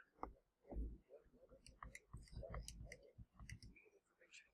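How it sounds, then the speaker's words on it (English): Calculator keys being typed: a quiet series of light, irregular plastic clicks, close and soft, alone without talk. "And typing that all into our calculator, area equals 90."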